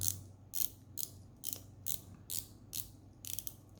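The unidirectional dive bezel of a Heimdallr Frost V2 200m watch is turned in steady steps, each producing a crisp, close ratcheting click, about eight in a row at a regular rhythm against a quiet background.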